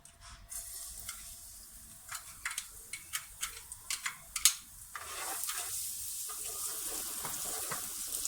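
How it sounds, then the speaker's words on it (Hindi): Chopped garlic frying in hot oil in a home kitchen while chicken chili garlic is prepared: a soft steady sizzle, with a run of sharp clicks and taps from the utensil against the pan before the frying settles into a broader hiss. "इस ऑयल में मैं डाल दूंगी गार्लिक, जो कि मैंने चॉप किया है।"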